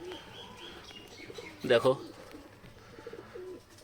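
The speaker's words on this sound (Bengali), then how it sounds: "আর এখানে যে একটা দেশি পায়রা বাচ্চা হয়েছে" Domestic pigeons coo near a chick, a short throaty burst standing out against soft background chirps while a person speaks briefly nearby.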